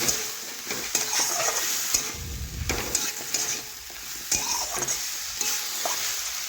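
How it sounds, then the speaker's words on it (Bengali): Tomatoes being stirred and fried with potato and broccoli in a pan, with a soft continuous sizzle broken by irregular spatula scrapes and knocks, close but fairly quiet, no talking. "এখন আবারও নাড়াচাড়া করে টমেটো একটু ভেজে নেব নরম হয়ে যাওয়া পর্যন্ত।"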